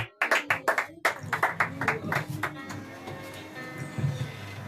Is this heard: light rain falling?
no